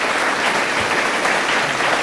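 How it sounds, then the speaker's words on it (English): A packed room at a Friends of Tourism event breaks into dense, steady applause welcoming special guest Red Steagall, a Texas recording artist and songwriter, sustained evenly throughout without a break. "give him a round of applause"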